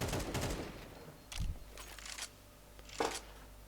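Gunfire in the Counter-Strike 2 video game on the Anubis map, with a loud opening burst of shots followed by a few shorter, quieter bursts.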